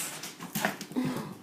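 A dog whimpers and pants close by in short, breathy bursts with a few high whiny squeaks, brief and fairly quiet.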